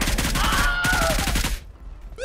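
Rapid gunfire rattles in a fast automatic burst in a shooter game, loud and dense for about a second and a half before cutting off into quieter game ambience.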